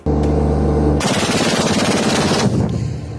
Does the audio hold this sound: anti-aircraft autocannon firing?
yes